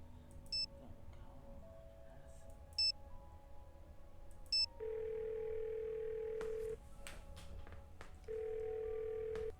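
Phone call placed in the Nancy Drew game Ghost of Thornton Hall: three short electronic beeps spaced apart, then two long steady ringback tones separated by a pause, over a faint low background.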